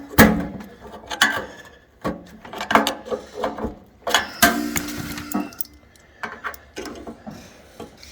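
A flathead screwdriver prying at a jammed auger tube in a pellet grill hopper assembly gives close, irregular metallic clicks, scrapes and knocks, in short bursts with brief pauses.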